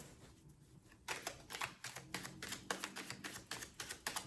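Tarot cards are drawn from a deck, giving a fast run of crisp, close snapping and flicking ticks as the cards are riffled and shuffled, quiet and alone without talk.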